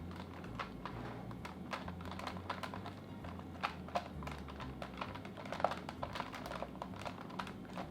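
A stiff joystick on a retro 486 PC is worked back and forth, producing rapid, irregular faint clicks and rattles over a low background hum.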